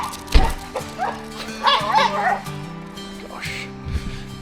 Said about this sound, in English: two very excitable dogs